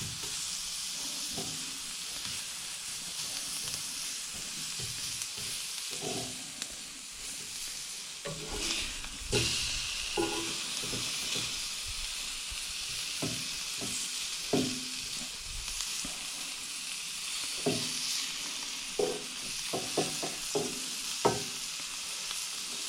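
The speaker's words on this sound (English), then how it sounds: "the onions are cooking up really fast" Onions sizzle steadily on a Coleman tabletop grill, a constant loud hiss close by with scattered scrapes and taps of a utensil stirring them throughout.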